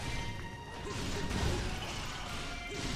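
A bombchu blows up in the Hyrule Warriors HD video game, a smashing crash that swells about midway through dense, busy battle sound effects.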